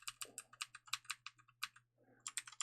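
Fast bursts of clicking keystrokes on a computer keyboard, near and crisp, in uneven runs with a short pause before the typing resumes, with no talk over it.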